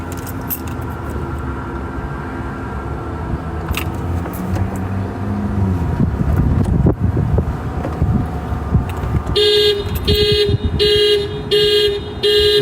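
A car alarm starts near the end, blaring in a loud, steady pulsing pattern of high tones, preceded by wind buffeting and passing traffic outdoors on a hot day.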